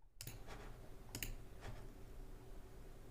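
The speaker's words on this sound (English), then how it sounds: "How do I get rid of the typing sound though?" Computer keyboard clicks come in a few quick, sparse keystroke bursts over a low background hum, faint and close, with no voices.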